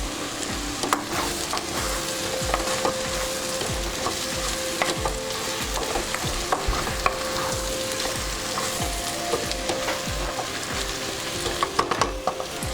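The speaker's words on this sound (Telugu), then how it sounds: "ములక్కాయలు వేసుకుని ఒక 5 నిమిషాలు ఫ్రై చేసినాం కదా." Drumsticks frying in a pan with garam masala for a prawn and egg curry, a dense continuous sizzle with frequent clacking stirs and scrapes of a spoon against the pan, close and steady with no talk.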